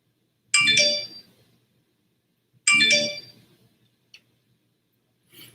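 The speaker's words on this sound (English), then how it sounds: "My phone's going off." A phone's ringtone plays two bright chiming bursts about two seconds apart, close and loud, followed by a couple of faint clicks in a quiet room.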